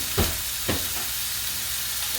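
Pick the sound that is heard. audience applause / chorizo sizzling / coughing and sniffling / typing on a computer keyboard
chorizo sizzling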